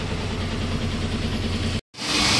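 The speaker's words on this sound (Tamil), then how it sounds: "ஐடியல் இன்ஜின் சவுண்டு இதே தான்" A new Ashok Leyland BS6 diesel truck engine idling, a steady low rumble with even vibration that cuts out briefly, then returns louder.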